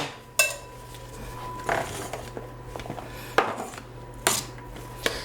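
Ground beef and onion mixture scraped and dumped from a pan into pasta, with several sharp clanks of metal utensil against cookware and softer scraping sounds between them, close and without talk.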